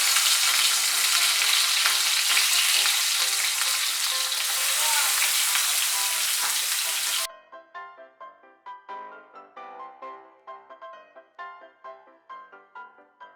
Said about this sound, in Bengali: তেলটা গরম হলে আমি এর মধ্যে মাছগুলো ভেজে নেব।